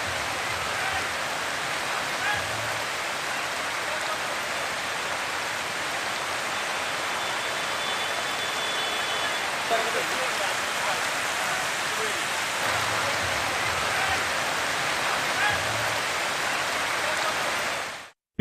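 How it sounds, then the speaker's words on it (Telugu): Floodwater pours over a low-level causeway after heavy rain, a dense, constant rushing roar that stays loud and even throughout with no voices, then cuts off abruptly at the end. "అనుపాలెం వద్ద లో లెవెల్ చెప్టాపై నుంచి వరద నీరు ప్రవహించింది"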